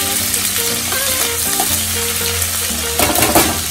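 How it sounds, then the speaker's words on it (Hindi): Onions frying in a pan give a loud, steady sizzle that runs the whole time, with a brief burst of stirring and spatter near the end; there is background music but no talking. "प्याज फ्राई हो रहे हैं"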